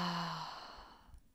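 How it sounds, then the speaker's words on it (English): A single deep exhale out through the mouth during a guided breathing exercise: a close, breathy sigh that starts loud and fades away over about a second. "Exhale out of the mouth."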